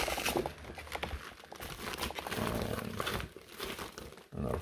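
The plasticky, Velcro-fastened material of an LED red and infrared light therapy foot boot wrap crinkles as it is handled, giving continuous close rustling and crackling with no voices.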